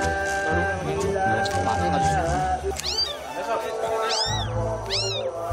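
Several high, plaintive kitten meows rise out of brushy undergrowth, close and clear, with people talking throughout against steady background noise.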